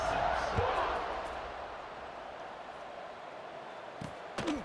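A stadium crowd in a college football video game, UTEP against an FCS opponent, keeps up a steady, moderate roar of cheering, with a couple of faint thuds near the end.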